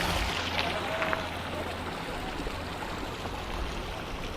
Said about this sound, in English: there's a stream coming from that direction, and then there's this coming under the boardwalk